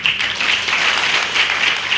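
An audience at a panel discussion bursts into applause, a bright, dense crackle of many hands clapping, loud and sustained for the full two seconds with no speech.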